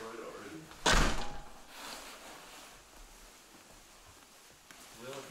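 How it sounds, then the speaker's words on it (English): Door slammed shut with one loud, sharp bang that fades into room noise, followed by quieter shuffling, with voices in the background. "if you slam that door again."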